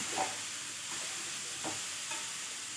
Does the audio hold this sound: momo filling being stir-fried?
yes